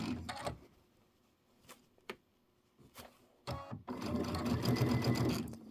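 Sewing machine stitching quilt blocks together for a mini quilt, a few short bursts of stitching early on, then a longer steady run of close, loud machine whirring to the end.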